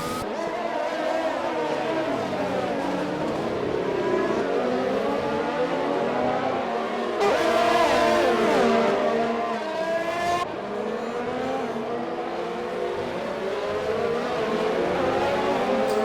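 Race cars in a sim racing game on the Baku street circuit, engines screaming and rising and falling through gears as several cars battle closely, with a sudden louder surge midway, continuous and near.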